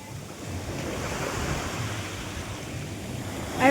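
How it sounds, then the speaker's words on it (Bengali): Sea waves wash in near the shore at Mandarmani beach with wind blowing over the microphone, a continuous rushing surf that swells slightly at the end, with no talk. "এখানে সমুদ্রের জল এখন কাছে চলে এসেছে, এই যে একদম কাছে চলে এসেছে। আবার হাওয়া দিচ্ছে"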